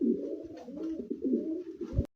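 Pigeons coo up close in a loft with a low, rolling, throaty burble in several swells, ending abruptly, with no speech.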